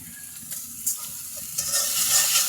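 Chilli, turmeric and salt spice paste stir-fried in a pan for a fish and gourd dish, a quiet steady sizzle broken by a few light scraping strokes, with no talking.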